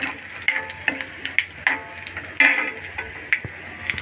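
Red chilies frying in a pan of oil, giving a close, crackling sizzle broken by irregular sharp pops and spits, with no voices over it.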